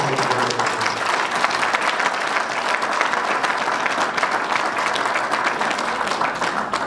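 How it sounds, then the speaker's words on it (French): A hall audience at a political party anniversary celebration in Brussels applauds, a thick, continuous wash of clapping that holds loud and steady for the whole stretch. "J'aimerais bien qu'on puisse un peu les applaudir"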